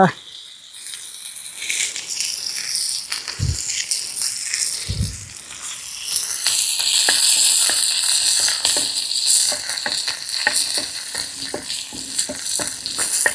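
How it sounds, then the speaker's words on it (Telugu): Fish frying in oil among onion pieces and curry leaves, a crackling sizzle with scattered pops and a couple of low thuds, growing more intense partway through, loud and close. "ఈ ఉల్లిపాయ ముక్కలు కరివేపాకుల మధ్య మనం ఒట్టింపారని పడుద్దామండి మంచిగా కాలుతుంది"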